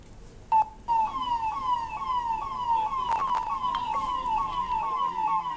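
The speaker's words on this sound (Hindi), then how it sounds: "जिसमें अभी 108 एम्बुलेंस आज हरी झंडी दिखाकर रवाना किया गया" Ambulance siren from new 108 emergency ambulances being flagged off, wailing in a steady rising-and-falling pattern, loud and close throughout with no talk over it.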